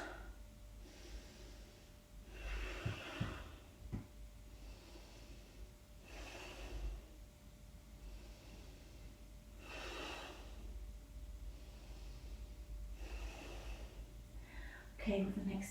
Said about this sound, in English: We're breathing in and out through the nose.